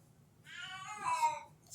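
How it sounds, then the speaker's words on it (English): A house cat meows in a drawn-out, wavering call lasting about a second, fairly close and clear, rising slightly in loudness near the end over a low background hum. "you can hear the cat"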